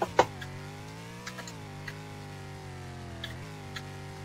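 Car driving in the Roblox town crash simulator game, a steady low engine hum with harmonic drone and slight pitch shifts, near and fairly quiet, with a couple of faint clicks and no talk.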